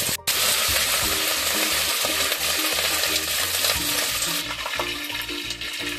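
Curry leaves sizzle and crackle in hot oil in a pan, a loud, dense frying hiss that runs steadily throughout with some stirring clatter, no voices.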